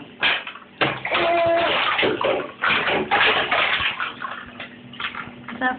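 A small child splashes water in a home bathtub: repeated close, loud slaps and sloshes in irregular bursts, with bath water running or dripping between them.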